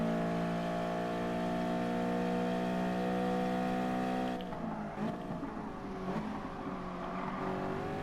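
Race car engine in GT Sport, a steady high-pitched roar at speed that then dips and shifts pitch through gear changes and braking, loud and continuous with no talking.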